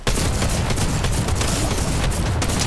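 Dense, continuous gunfire from the video game Fortnite, rapid overlapping shots and booms filling the whole stretch at a loud, steady level with no talk.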